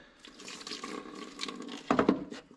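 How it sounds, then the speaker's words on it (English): Hot water poured to rinse cleaner off the battery terminals of a John Deere 1025R tractor, a soft splashing trickle that swells into a louder burst of running water near the end. "I'm just gonna take some hot water, rinse those off."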